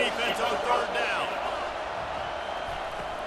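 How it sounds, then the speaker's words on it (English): A college football stadium crowd during Auburn Tigers vs Kentucky Wildcats roars steadily on a third-down defensive play, a broad sustained wash of cheering that swells slightly, with a commentator speaking over it. "Decibels rising as the crowd gets behind this defense on third down."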